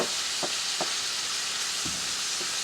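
Ground beef browning in a pan with pink salt and fresh ground pepper being stirred in, a broad steady sizzle under a few soft, spaced scrapes of the spoon, close and moderate, no one talking.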